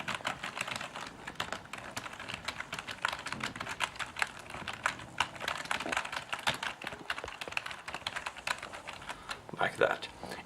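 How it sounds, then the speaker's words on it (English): Old, very loud rubber dome computer keyboard typed on rapidly, a dense continuous clatter of keystrokes close up, with faint speech-like sound mixed in. "this keyboard, which is a rubber dome keyboard, is not only a rubber dome keyboard but tremendously loud"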